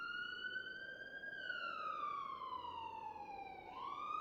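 A police or ambulance siren wails steadily at the scene of a killing, its pitch sweeping slowly up and down over a constant low rumble, moderately distant, with no voices.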